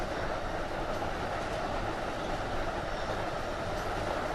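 An MBTA Boston Sprinter passenger train running in the Train Sim World 2 rush-hour simulation, a continuous low rumble of wheels and motor with faint rhythmic clatter, steady and close, no talking.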